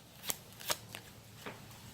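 A tarot card pulled from the deck during a weekly reading: a few quick papery snaps and slides of cards, about four soft bursts in two seconds, close and alone.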